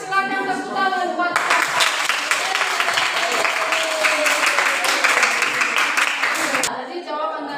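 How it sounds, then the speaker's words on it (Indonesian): Students in a classroom applaud a group's presentation with a sudden burst of clapping that holds steady for about five seconds, then cuts off, with a voice speaking faintly before and after. "silakan tepuk tangan buat"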